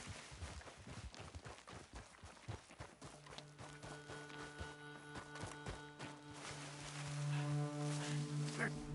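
Horses gallop in Red Dead Redemption 2, a fast, rhythmic run of hoofbeats up close, with sustained tonal music rising beneath them toward the end.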